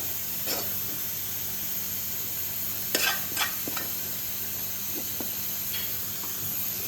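Beef mixture being stirred in a frying pan, with steady sizzling and scattered scraping clinks of the spoon against the pan, fairly close and moderately loud, with no talking.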